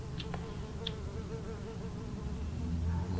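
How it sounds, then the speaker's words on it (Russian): A housefly buzzes steadily in the Alpha Protocol video game, a low continuous drone over a constant background hum, with a couple of faint high ticks near the start. "Муха где-то летает."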